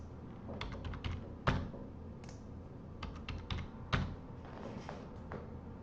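A new password being typed on a computer keyboard: quiet, close key clicks in short irregular runs with brief pauses between them, no talking.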